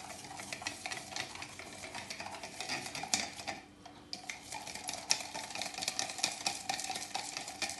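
A spoon clinks and scrapes steadily against the inside of a cup, stirring instant coffee and sugar continuously with a short pause, close and fairly quiet.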